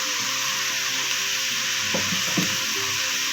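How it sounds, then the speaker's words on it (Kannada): Onions sautéing in a pan with salt, in the early steps of an avarekalu (hyacinth bean) upittu: a steady, close sizzle with a few soft stirring knocks partway through, and no talking. "ಸ್ವಲ್ಪ ಈರುಳ್ಳಿ ಬಾಡಿಸ್ಬಿಟ್ಟು ಚೆನ್ನಾಗಿ ಸ್ವಲ್ಪ ಉಪ್ಪು ಹಾಕ್ತೀನಿ"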